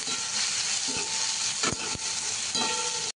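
Onion and tomato fry in a pan for a cauliflower and potato bhaji, giving a steady close sizzle broken by a few stirring clinks and scrapes before cutting off abruptly.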